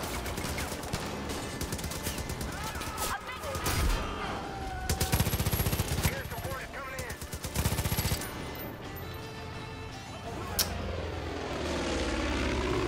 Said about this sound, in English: And of course, we've got the plane as well, which doesn't help.